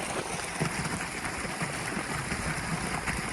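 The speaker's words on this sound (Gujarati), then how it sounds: "આપણે જો પાણી જાય છે" Water runs through a field channel on a farm, a steady, fairly faint rushing and gurgling wash heard close by without voices.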